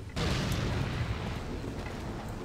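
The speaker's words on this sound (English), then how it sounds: "I just hear the explosion. That's beautiful." Explosion in the video game Resident Evil 4, a sudden loud blast followed by a sustained roaring rumble that slowly fades, with no talking.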